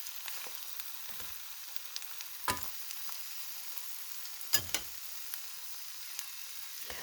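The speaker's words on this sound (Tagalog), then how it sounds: "A little bit more of frying to make it crispy." An egg frying in a pan until crispy gives a steady, soft sizzle with occasional sharp pops and crackles, close and quiet.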